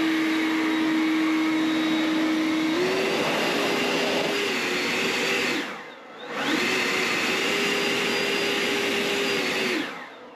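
A Ryobi leaf blower runs in turbo mode while clearing sticky snow, a loud, steady high-pitched whine and rushing air nearby, briefly dropping off about midway before revving back up and cutting down again at the end.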